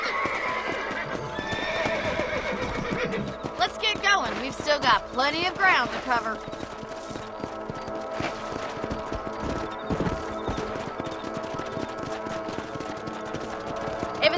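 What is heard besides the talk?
horse hooves clip-clopping in video game Red Dead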